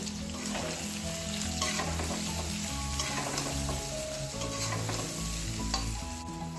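Cumin seeds sizzle in hot oil in a pan while a spoon stirs them for a jackfruit pickle, giving a steady crackling fry with scraping and clinks throughout, no talking.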